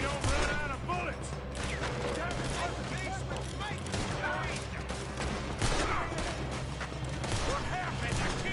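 Steady gunfire crackles through a Red Dead Redemption 2 shootout during a robbery, dense overlapping shots over a low rumbling bed, loud and continuous throughout with no pauses.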